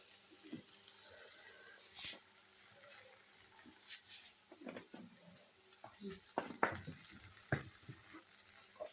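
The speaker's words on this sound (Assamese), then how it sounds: "আদা নহৰু চেণ্টটো যাবলৈ অলপ ফ্ৰাই কৰিব লাগিব" Ginger and garlic sizzle in a pan while being stirred, a soft steady fry broken by scraping and clinking strokes that grow louder toward the end.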